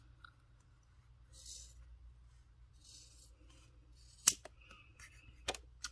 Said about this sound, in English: I like to cut the sponge in half